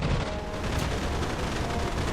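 Dense, continuous rattle of a Spitfire Mk IX's cannon and machine guns firing together in the DCS flight simulator, with a low booming undertone, steady and loud throughout.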